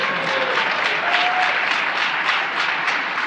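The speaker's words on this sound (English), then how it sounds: "You can clap." A large audience at a SharePoint roadmap presentation breaks into dense, sustained applause, an even wash of many hands clapping that fills the space with no talk over it.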